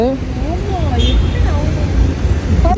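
Steady road traffic rumble from lorries queued in a line heading to Coimbatore, heavy vehicle engines continuous and fairly loud, with voices talking over it.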